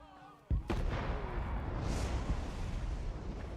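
Bombs exploding in a scene from the TV series The Penguin, one sudden deep boom followed by a long rumbling roar that fills the space for several seconds.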